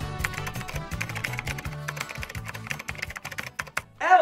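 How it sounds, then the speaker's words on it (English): Typing on a computer keyboard comes through as a rapid, steady run of close, crisp key taps, ending with a brief chirpy sound effect. "K is for keyboard!"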